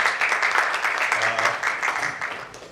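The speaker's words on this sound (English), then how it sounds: "quick round of applause for Manoj for doing this for the second time" Audience at a Hyderabad tech conference applauds steadily for a few seconds, a dense wash of clapping with faint murmurs underneath.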